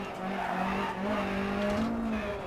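Fiat rally car in the Dirt Rally video game on a German stage, tyres squealing and skidding in a long sustained whine over a steady engine drone, loud and close.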